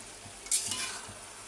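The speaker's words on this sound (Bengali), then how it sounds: "নানি কিন্তু ঝোল ছাড়াই হচ্ছে শুটকি মাছের ভাজিটা করে নিচ্ছে সাহেব কচু দিয়ে" Dried fish fried with taro and no broth crackles softly in a pan as a spoon scrapes through it once, a brief stirring swish over a low, steady sizzle.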